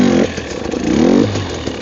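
A motorcycle engine revs and drones as the rider slips the clutch through a slow wheelie in snow. The steady, fairly loud tone swells and dips for a couple of seconds with no talking.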